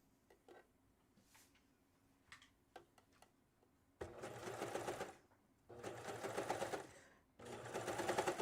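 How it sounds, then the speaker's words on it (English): Serger stitching the gathered neckline pieces of a faux cowl T-top together, running in three loud sustained bursts after a few quiet ticks and handling clicks. "And what I'm doing is I'm serging 2 and 3 together to 1."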